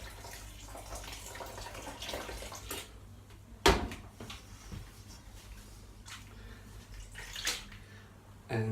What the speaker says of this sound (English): I'm gonna pour some hot water inside to extract more sugar from these oats